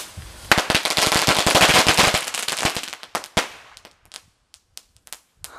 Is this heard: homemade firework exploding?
yes